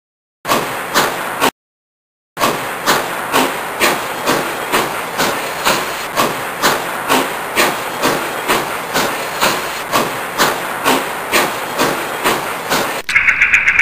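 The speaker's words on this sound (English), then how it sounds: "And with that, the train pulled away from the platform." A steam-style train pulls away from a platform, its chuffs loud and rhythmic and speeding up steadily over about twelve seconds, broken by one short gap near the start.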